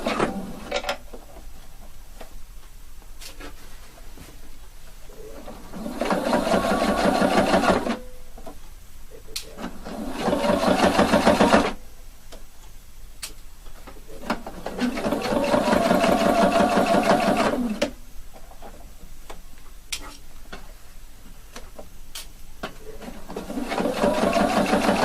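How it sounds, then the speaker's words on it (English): Sewing machine stitching a mandarin collar about 2 millimetres from the edge, running in several steady bursts of a few seconds each, separated by quiet pauses. "Now I'm going to stitch it all the way here."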